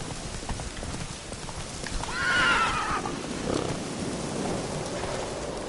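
A horse named Roach gallops in a video game, hooves clip-clopping steadily while a whinny rises in the middle and rain hisses in the background.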